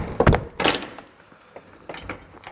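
A delivery truck's small door is pushed shut with a couple of solid thunks and a short rattle, followed later by lighter knocks and handling noises, fairly close with no talk.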